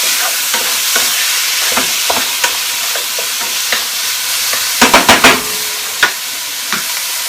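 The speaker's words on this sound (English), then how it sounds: "Hear that chicken sizzle." Diced, hand-trimmed lean chicken sizzles steadily in a hot pan, a constant loud frying hiss broken by scattered clicks and a quick cluster of sharp scraping stirs.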